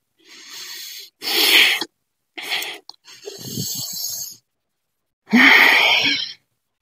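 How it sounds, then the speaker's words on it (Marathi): Forceful breaths push out through the nose and mouth during Surya Namaskar yoga practice, several separate exhales with short silences between them, close and loud. "श्वास सोडायचा आहे"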